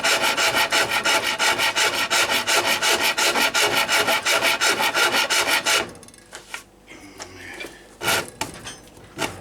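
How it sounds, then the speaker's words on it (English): A Japanese rasp scrapes a wooden bow tip flat in fast, even, rhythmic strokes, loud and close for several seconds, then stops, leaving a few scattered knocks and handling sounds. "so I'm going to go for a Japanese rasp here"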